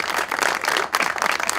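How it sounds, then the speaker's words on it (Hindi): A studio audience on a Pakistani television talk show breaks into dense, continuous applause that stays loud throughout the short stretch, with a slight dip midway. "रंगीला साहब के लिए तालियां"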